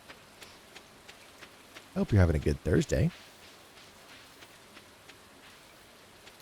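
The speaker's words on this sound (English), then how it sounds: "Nothing like rain in Stardew Valley" Rain in the video game Stardew Valley makes a soft, steady hiss throughout, with a person speaking briefly over it partway through.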